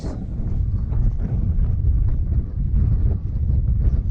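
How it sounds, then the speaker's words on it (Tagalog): Strong winter wind in Japan buffets the microphone with a loud, continuous low rumble that surges and dips slightly, drowning out other sounds. "maririnig nyo siguro sa video, umiihip. Lakas ang ihip ng hangin."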